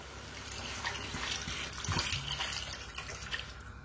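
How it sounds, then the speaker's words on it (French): Water pours steadily into a pot over chicken pieces for rillettes, a soft continuous splashing and trickling, close but fairly quiet, with no talking. "je vais couvrir d'eau"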